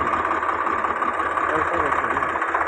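A Sonalika 750 tractor engine idles with a steady, rumbling drone close by at a tractor market in Barnala, while a person talks over it.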